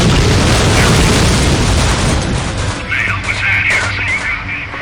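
A loud, rumbling explosion in the video game Aliens versus Predator 2 roars at the start, then slowly fades into a lingering low rumble with faint tones.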